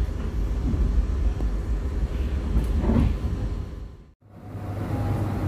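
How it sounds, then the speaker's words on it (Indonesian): Cikuray passenger train pulling into Leles station in Indonesia, a steady rumble of rolling carriages with a brief squeal before the sound cuts and settles into a lower hum as it stops. "Kereta api Cikuray berhenti stasiun"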